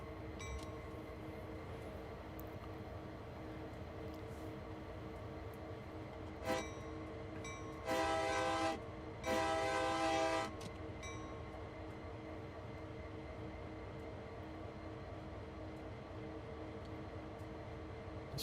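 Air brake system of a train in Train Sim World 2 on the Cane Creek route, a low steady hum with two bursts of hissing air pumping, faint and continuous, with no voices.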